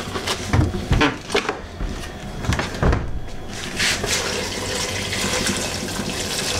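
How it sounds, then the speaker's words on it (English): Vegetable stock is poured from a carton into a pan, splashing and gurgling with a few knocks and clatters early on, then settling into a steady liquid rush, close and fairly loud. "And I just pour it in my pan"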